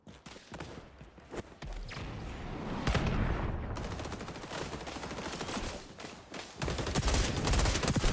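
Gunfire in the online shooter XDefiant, including shotgun blasts, a rapid run of loud close shots and bursts over game effects, with no talk.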